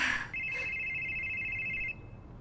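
A telephone rings with a single sustained electronic tone lasting over a second and a half, clear and fairly close, in a quiet room.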